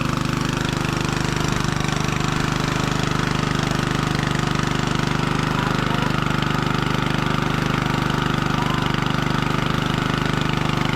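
A new water pump engine runs continuously with a loud, steady mechanical drone and a rough, knocking rumble, close by throughout.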